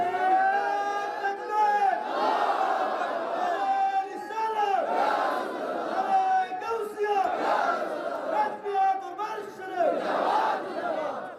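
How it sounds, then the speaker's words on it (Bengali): A large gathering chants a slogan in loud, rhythmic call-and-response waves, each phrase swelling and falling in a repeating pattern over about eleven seconds. "এটা স্লোগান।"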